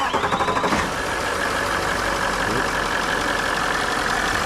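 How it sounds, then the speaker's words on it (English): Range Rover engine cranks with a rapid rhythmic starter chatter, then catches and settles into a loud, steady idle close by. "Apprentice Pat's going to start the vehicle"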